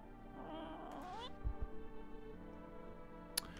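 A cat in the video game No, I'm not a Human gives a short meow over quiet game music, with a few soft thumps and a brief sharp click later on.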